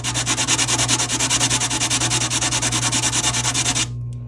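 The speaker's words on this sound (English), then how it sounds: "See if wet sanding would help." Steady rhythmic wet sanding of a terrazzo keychain, quick even back-and-forth strokes close up, stopping abruptly near the end.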